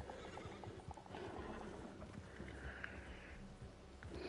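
Video game horse in a Wild West setting, neighing and whinnying with clip-clop hoofbeats, fairly quiet and continuous under a low ambient wash.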